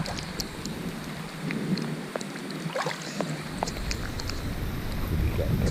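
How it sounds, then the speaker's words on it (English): Steady warm rain pours down in Brazil, a dense hiss of drops on surfaces with a low rumble underneath, loud and close, no voices. "It's warm rain and all that"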